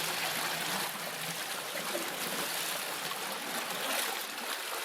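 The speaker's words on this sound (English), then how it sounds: "the water drain here pretty quick" Water drains off quickly through an old flooded passage about four feet deep at Anyox, a soft continuous trickling rush that stays fairly faint and unbroken throughout.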